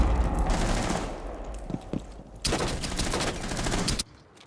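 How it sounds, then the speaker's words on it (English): Rapid pistol gunfire in Rainbow Six Siege, a dense burst of shots, then a pause and a second loud, closely spaced volley that cuts off abruptly. "So, how many gunshots do we hear?"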